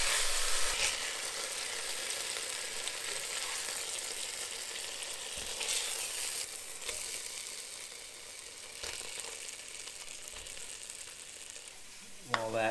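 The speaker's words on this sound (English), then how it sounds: "That sausage is browning" Sausage browning in a pan for Italian sauce, a steady close hiss of sizzling fat with faint clicks and stirs, fading slightly toward the end.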